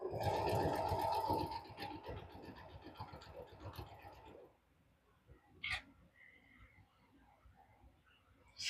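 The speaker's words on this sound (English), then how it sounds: "I'm just chain piecing them like this." A home sewing machine chain-pieces half square triangles for a quilt, running with a dense rapid stitching whir for about four seconds and then stopping. A few light clicks and scrapes follow in a quiet room.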